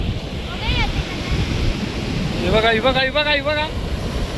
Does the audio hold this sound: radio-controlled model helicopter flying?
no